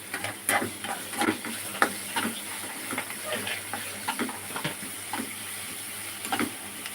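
Poha with mustard seeds, cumin, chillies, coriander and curry leaves being mashed and mixed in a pan, repeated soft scraping and tapping strokes over a faint sizzle, close by.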